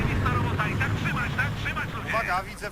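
A helicopter in the video game Battlefield 3 drones steadily with a whirring engine hum beneath someone talking throughout.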